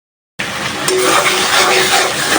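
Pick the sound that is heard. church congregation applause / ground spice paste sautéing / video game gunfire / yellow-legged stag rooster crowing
ground spice paste sautéing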